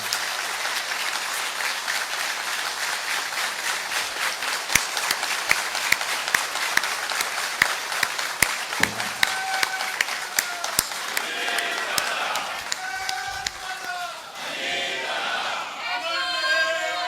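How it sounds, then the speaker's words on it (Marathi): Audience at a Nationalist Congress Party political gathering clapping in sustained applause to welcome an announcement, dense and continuous with scattered louder claps, with crowd voices and cheering rising near the end. "अभी तालियां बजा के आपण टाळ्या वाजून या घोषणेचा स्वागत केलं आहे."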